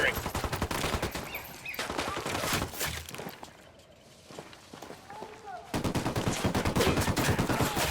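Gunfire from the video game Ghost Recon Wildlands, dense bursts of shots and automatic fire crackling through most of the stretch, easing off in the middle before a loud renewed volley, with voices talking over it.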